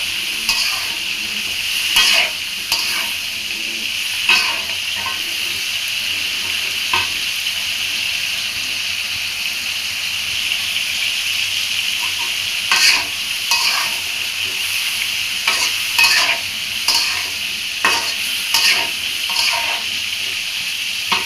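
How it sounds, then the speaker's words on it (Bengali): Cut potatoes and flat beans fried in spice paste, a constant hiss of oil under scattered scraping strokes of a spatula, close and steady with no one speaking. "এখন দিয়ে দেবো কেটে রাখা আলুগুলো আর সিম। এগুলোকে মশলার সাথে এখন ভালো করে কষাই নেব।"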